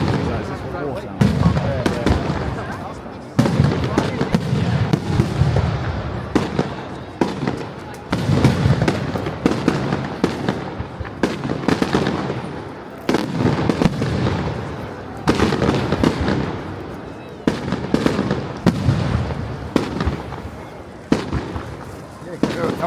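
Fireworks burst repeatedly at a Surrey bonfire night event in Chiddingfold, loud cracks and booms in quick irregular volleys, with crowd chatter and voices underneath throughout.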